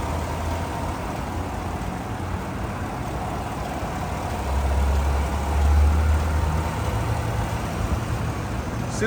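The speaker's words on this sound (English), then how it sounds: "Engine sounds great." A 2021 Chevy Silverado 1500 WT 4x4 work truck idles with the hood open, giving a steady low rumble that swells slightly midway and holds even throughout, with no talking.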